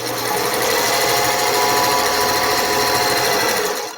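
A sewing machine chain-pieces quilt blocks, one after the other, with a continuous, fast, close-up whir that holds steady for the whole stretch with no pauses and no talk.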